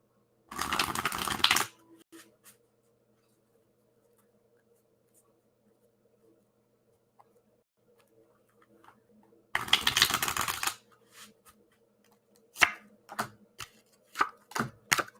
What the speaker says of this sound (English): So let's throw some cards down.